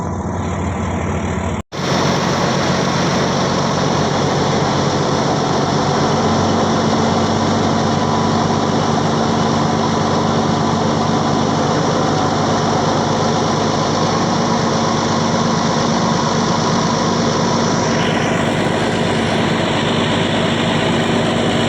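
A fishing boat's engine idles loudly and steadily at a pier for a long stretch after an abrupt start, with a constant droning hum close by and no talking.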